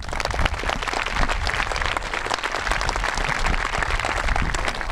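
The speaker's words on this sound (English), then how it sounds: "A round of applause for Mr. Reeder." Audience applause at a high school commencement ceremony, a steady, dense wash of many hands clapping at even loudness throughout, with no voices over it.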